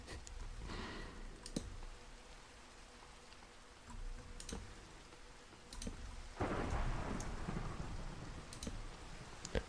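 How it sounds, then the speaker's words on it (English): Rain and a thunderstorm in the video game Minecraft: steady hissing rainfall throughout, with a rumbling thunder roll early on and a louder, sustained crash of thunder in the second half, plus scattered sharp clicks. "it's raining on my wet farm, my farm of water, and thunderstorming"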